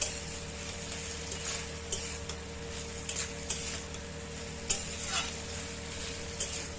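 Spoon stirring a thick banana flower curry cooked with prawns in a pan, with soft scraping strokes and light clicks at irregular intervals over a low steady sizzle, close and fairly quiet, with no talking.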